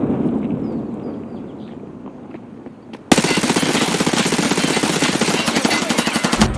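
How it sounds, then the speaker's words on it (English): A grenade going off in Escape from Tarkov, a sharp sudden blast followed by sustained loud crackling and rattling, with quieter ambient gunfire before it. "Oh, that's a good nade."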